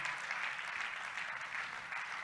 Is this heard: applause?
yes